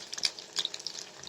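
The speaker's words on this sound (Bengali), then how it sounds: "এখন আমি ডিমটা ভালো মতো ভেজে নিব।" Egg frying with onion in a pan gives a soft, steady sizzle with small crackling pops, close and fairly quiet, alone with no voices.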